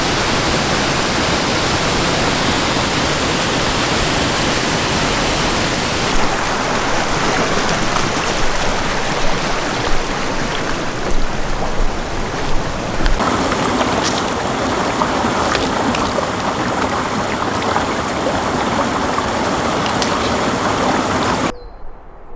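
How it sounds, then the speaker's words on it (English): A rain-swollen river along the Appalachian Trail rushes in a loud, continuous broadband roar that stays steady throughout, with no voices. "The rivers are really beautiful right now, especially with all that rain yesterday"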